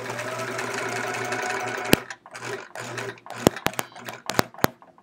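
A sewing machine quilting a chevron quilt with a walking foot runs in a loud steady hum, then stops and is followed by sharp mechanical clicks and clunks, with someone talking briefly.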